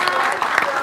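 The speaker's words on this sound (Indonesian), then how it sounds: "boleh kasih tepuk tangan dong teman-teman" A short burst of audience applause at a talk show, quick clapping over a brief moment with some voices mixed in.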